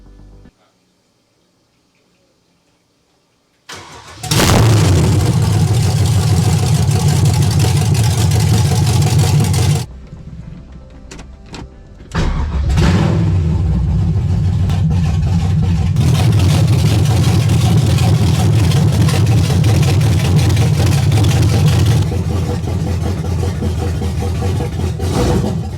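Custom-built 6.0L V8 BMW firing up after a brief quiet spell, then roaring loudly through revs, a short lull and a sustained run under load as it pulls away, close and powerful.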